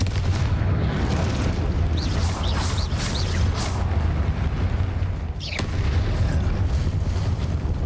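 Booming Confringo fire-spell explosions in Hogwarts Legacy, heavy and rumbling, go off repeatedly over a dense, continuous combat din, with a sharp whooshing burst near the end.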